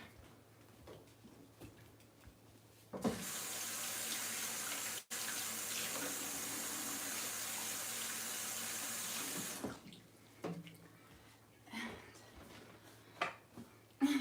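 Kitchen sink tap runs at full flow for about seven seconds while shrimp are washed, a steady close hiss of water that cuts off abruptly, with quiet kitchen clatter before and after.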